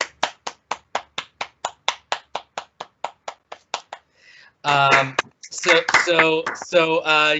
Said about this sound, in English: let's do a round of applause for our impact partners for joining us this morning